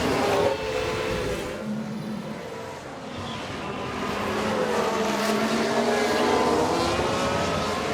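Formula 1 race cars scream past on track in the video game F1 Manager 2024, engine whines rising and falling as several cars pass in a loud, continuous stream.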